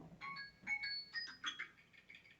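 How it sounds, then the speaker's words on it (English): A mobile phone ringtone plays faintly in a quiet room, a short run of bright electronic melody notes lasting a couple of seconds. "That's my phone."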